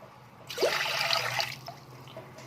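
About a cup and a half of water splashes steadily into a cooking pot for sugar syrup, a close, one-second gush that then trails off to quiet.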